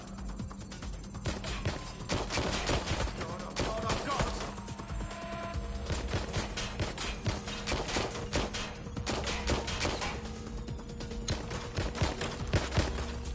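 Gunfire in the video game Watch Dogs Legion on PS5: dense bursts of rapid shots and thuds fill the whole stretch, loud and continuous, with game voices calling out faintly underneath.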